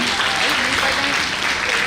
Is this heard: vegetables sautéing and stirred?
no